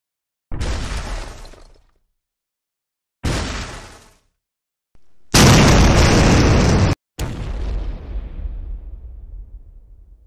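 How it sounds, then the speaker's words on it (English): Several bomb explosion sound effects play one after another, each a loud burst with crackling debris; the third is longest and harshest, and the last one rumbles and fades slowly. "let's see if we can find like bomb explosion"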